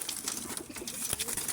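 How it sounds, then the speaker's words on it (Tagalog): Pigeons kept in a Pampanga coop coo softly and steadily in a close, slightly noisy setting, with no voices over them. "Papakita ko naman sa inyo mga quality mga kalapati natin."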